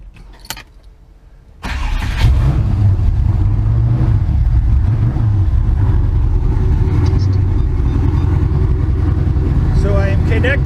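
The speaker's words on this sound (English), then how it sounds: "So I'll start the engine, it'll be a little loud" An engine on a GTM ducted fan test rig fires up after a short quiet pause and keeps running at a loud, steady roar for the rest of the clip, with no talk over it.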